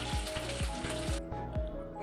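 Shrimp and jackfruit curry sizzles and fries in a pan over a wood fire, a steady close hiss with periodic scraping stir strokes and a low crackle underneath.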